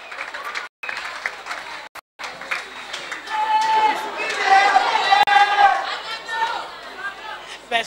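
Audience applause and cheering at a Miss Francophone beauty pageant, clapping swelling into a loud burst with crowd chatter and a voice over a microphone mixed in.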